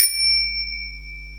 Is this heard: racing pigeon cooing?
no